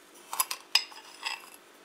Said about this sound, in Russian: теперь мы туда добавляем 4 столовые ложки сахара